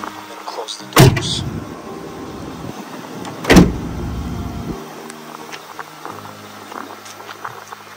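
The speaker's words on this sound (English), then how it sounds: "And close the doors." Doors of a 2015 GMC Savana Explorer Limited SE wheelchair van being shut, two loud slams about two and a half seconds apart, each followed by brief rattling, with quieter mechanical clicks and handling noise between.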